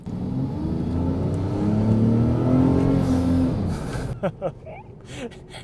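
A 2001 Volvo S80 T6 with a turbocharged engine accelerates hard, its engine note climbing steadily in pitch and loudness before easing off, followed by a few short bursts of voices and other sounds.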